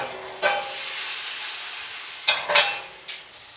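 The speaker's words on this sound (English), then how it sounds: "dump it straight into a hot cast iron pan" Food sizzles steadily in a hot cast iron pan, a continuous bright hiss broken by a few louder crackles and spits near the end, with no voices.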